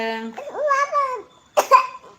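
A single short cough breaks in after a child's high, babbling vocal sounds, close and fairly loud.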